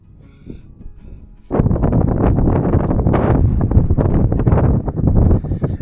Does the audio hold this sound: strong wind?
yes